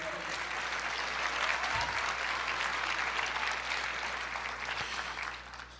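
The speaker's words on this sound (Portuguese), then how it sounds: "Você pode aplaudir o Senhor" A church congregation applauds steadily and densely for several seconds, a sustained wash of clapping that thins slightly at the end, with no voices over it.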